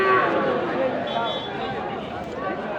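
At a busy rural cattle market, a black bull gives a short low moo near the start, with background bustle and someone talking over it throughout.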